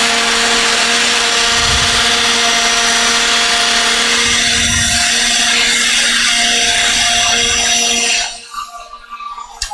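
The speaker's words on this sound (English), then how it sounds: "the magic of the leaf blower" Loud, steady roar of a leaf blower blasting dust out of a gaming PC, with a constant whine running for about eight seconds before cutting off abruptly into near silence.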